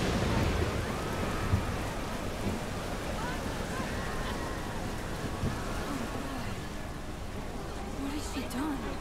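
Steady heavy rain with a low thunderstorm rumble in the video game Life Is Strange: Double Exposure, a dense continuous wash throughout with faint game voices and tones mixed in.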